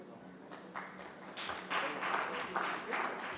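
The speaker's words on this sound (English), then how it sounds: "Can we have a big round of applause for Raghuram Manikandan, a budding talent of India?" Audience applause at a conference inauguration starts sparse and swells into fuller clapping, moderately distant, with a faint voice in the background.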